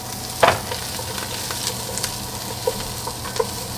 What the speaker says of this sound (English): stir all that in, let it toast for a second or two